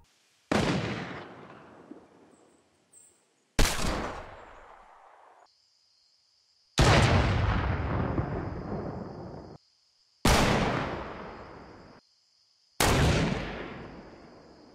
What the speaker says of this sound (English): the scoped revolver and hand cannon aren't quite as loud as the sniper rifles